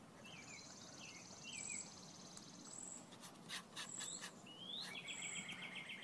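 Small birds chirp and tweet outside a window, repeated high calls and short trills over a faint, soft background hum, quiet and at a moderate distance, with no voices.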